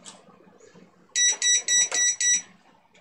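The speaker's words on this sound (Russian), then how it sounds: "он так голосно пищит" An Arduino-based wattmeter beeps loudly while being programmed, six sharp electronic beeps in an even, rapid run, close and piercing, with faint background noise before and after.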